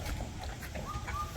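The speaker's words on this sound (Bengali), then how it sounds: "ওই যে পাখি ডাকতেছে সুন্দর" A bird calls outdoors in a Bangladeshi village just before rain, a couple of thin rising whistles rising over steady low rumbling background noise, fairly faint and set back from the listener.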